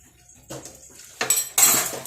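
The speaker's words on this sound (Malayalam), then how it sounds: "പാത്രം കുറേ ഉണ്ട് പാത്രം കുറച്ച് അങ്ങ് കഴുകാം" Dishes and cutlery clatter while being washed, a few light clinks building to louder clanks of pots and plates close by.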